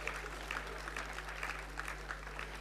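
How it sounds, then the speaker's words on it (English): At a college convocation ceremony in an auditorium, a crowd gives faint, distant applause for graduating students, a soft steady patter of clapping over a constant electrical hum. "Can we have a huge round of applause for our students?"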